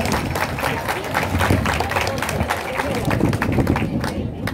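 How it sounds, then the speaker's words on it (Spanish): Audience applause at a school year opening ceremony in Chilete, dense steady clapping from a crowd filling the whole stretch, close and loud, with some crowd noise mixed in. "¡Fuertes esos aplausos!"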